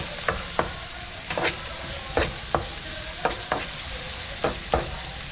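Garlic sizzles steadily in a hot pan while a utensil scrapes and stirs it in regular strokes, close and moderately loud, with no talking.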